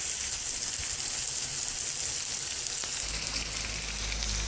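Garlic and onions sizzling in a pan over low heat, a steady, close, even frying hiss that continues without pause, with a low hum coming in partway through.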